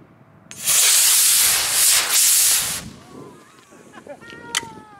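An Estes model rocket motor igniting at launch: a loud, harsh roaring hiss bursts out close by, holds for about two seconds, then fades as the rocket climbs away, with faint voices afterward.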